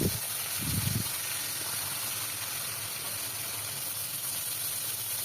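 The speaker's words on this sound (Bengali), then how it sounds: "তেলটা ভালো মতো গরম হলে মাছগুলো দিয়ে দিলাম।" Pieces of shol fish fry in hot oil over low to medium heat, giving a steady, even sizzling hiss throughout, close up, with a few low knocks near the start and no voices.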